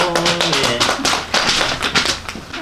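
Audience applause at a live public children's song broadcast, a dense burst of clapping from many hands that holds steady for a couple of seconds with no one speaking.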